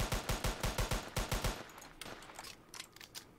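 Rapid automatic gunfire in the Roblox game ERLC, a tight burst of about ten loud shots in quick rhythm, followed by scattered fainter pops.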